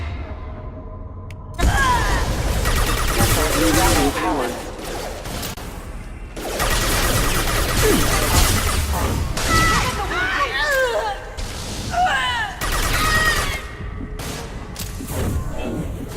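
Rapid gunfire and booming impacts in the video game Mass Effect 2, loud bursts running through most of the stretch with short gaps, mixed with game voices and effects.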